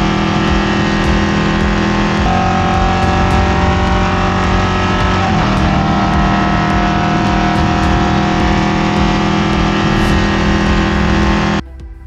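A damaged race car limps toward the finish line during a race, its engine droning loud and steady with sustained harmonic tones that shift pitch a few times before cutting off near the end.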